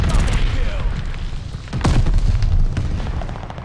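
Bomber run explosions in Call of Duty: Vanguard, a dense barrage of booming blasts and bursts rumbling loudly throughout, with a sharper crack near the middle and scattered game noise underneath.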